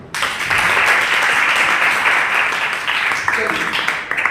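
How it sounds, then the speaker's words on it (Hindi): A gathered audience at an earthquake safety training session claps loudly on cue, a sustained burst of applause that swells quickly and tapers near the end, with a voice faintly under it. "एक बार जोरदार ताली बजे"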